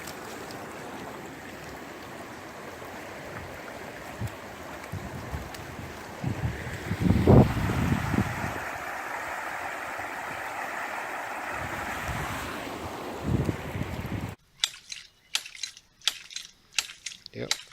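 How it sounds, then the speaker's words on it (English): A ram pump driven by spring water on a homestead, heard as steady rushing water and wind noise with a brief louder surge midway, then sharp rhythmic clacks of the pump valve repeating near the end. "Yep, that's my ram pump working."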